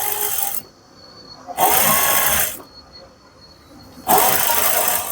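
A sewing machine stitches lining onto a puff sleeve in two steady whirring bursts, separated by short pauses, close and fairly loud.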